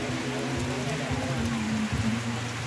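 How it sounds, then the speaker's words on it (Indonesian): Heavy rain pours steadily at a lakeside campsite at night, a dense unbroken hiss of drops drumming on nearby surfaces, loud and close with no pauses. "Jadi di cuacanya hujan lebat ini teman-teman ya"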